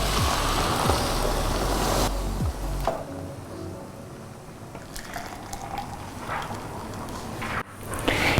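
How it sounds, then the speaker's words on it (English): Hot water poured into a pot of cumin cauliflower soup, a loud gushing splash at first that settles into softer bubbling and liquid movement, with faint clinks near the end. "we're going to add in some water, and I always add in really hot water"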